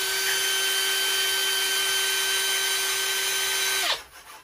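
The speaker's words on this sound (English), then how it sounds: "hopefully that's not drilling a hole through that" A power drill whines at a steady high pitch during a home art craft project, running continuously for about four seconds before spinning down and stopping abruptly, loud and close.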